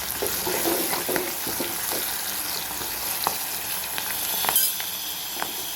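Onion, green chilli and curry leaves frying in a pan for a ridge gourd curry, giving a steady close sizzle with scattered clinks and stirring knocks throughout, no voices.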